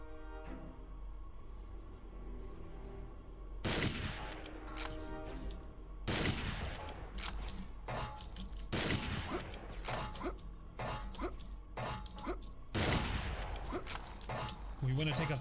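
Gunfire in the video game Turok 3, a series of sharp loud shots and clustered bursts at irregular intervals over a droning game background, with a voice talking underneath.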